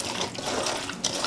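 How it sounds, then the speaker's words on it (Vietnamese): Cabbage is washed under running tap water, giving a steady, fairly loud rush and splash with a brief louder surge near the end. "thì mình sẽ tranh thủ mình rửa luôn bắp cải nha mọi người"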